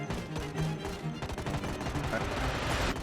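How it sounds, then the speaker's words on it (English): Rapid bursts of gunfire crackle back and forth in Project Zomboid, dense and continuous, with a voice faintly underneath. "Watch the gunshots."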